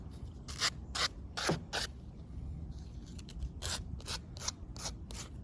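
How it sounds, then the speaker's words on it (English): Sandpaper rubbing the edge of a metal brake line on an F600 rear axle, a series of short, close, dry rasping strokes in uneven bursts with pauses between. "Sand the edge down just a little bit."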